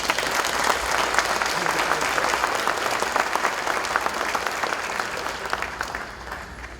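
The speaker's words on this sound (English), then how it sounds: "I think that deserves applause," An audience breaks into strong, sustained applause, a dense wash of many hands clapping that stays loud before tapering off slightly at the end.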